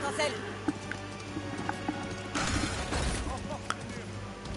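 Horse hoofbeats clatter in the video game Highguard, a quick run of clip-clop strikes mixed with a brief shattering burst and game noise, faint under a man's French speech.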